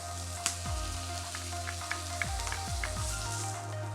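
Minced red onion and garlic frying in a pan, a steady close sizzle with scattered crackles and pops, and a few soft utensil bumps against the pan.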